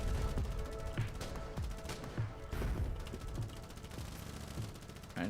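Suppressing machine gun fire in a video game rattles in rapid repeated bursts with sharp individual reports, loud and close, layered over a busy battle din.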